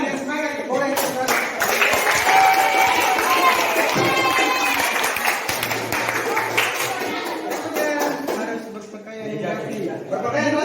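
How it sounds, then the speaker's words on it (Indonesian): A school audience in Indonesia claps enthusiastically in a sustained, dense burst of applause lasting several seconds, with crowd chatter and occasional laughter blended through it. "Tepuk tangan yang semangat, boleh semangat."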